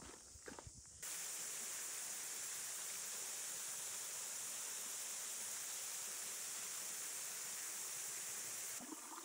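A clear river flows beside a forest trail in the Hunua Ranges near Auckland, making a constant, even rush of water that comes in abruptly after a few seconds of footsteps and movement, with no talking.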